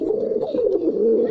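A single short, low coo comes from a pair of male and female local pigeons, heard close and clear for about a second with no other sounds.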